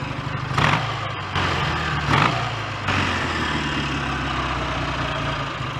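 A BSA A10 Super Rocket 650 motorcycle ticks over at idle with a clattery mechanical rattle, a steady close engine sound with a few brief louder bursts and no talk.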